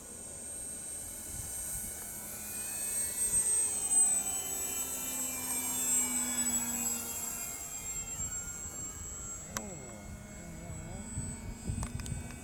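An FMS 1700mm PA18 radio-controlled model airplane flies overhead, its steady engine drone swelling and fading across the sky, with faint outdoor background and a few sharp clicks near the end.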